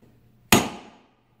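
A single sharp metallic strike of a chisel driven into annealed steel, loud and close, ringing briefly before decaying over about half a second, alone with no talk.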